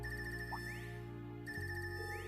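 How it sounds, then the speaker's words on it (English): A ringtone in the video game Trails of Cold Steel 3 rings steadily and loud, with a repeating tonal electronic pattern over a constant background music bed. "This ringtone, that's really frickin' annoying."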